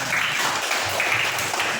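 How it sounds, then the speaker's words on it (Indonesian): A classroom of students applauds their classmates during a lesson, a brief, lively patter of many hands clapping together at close range. "tepuk tangan dulu buat teman-teman"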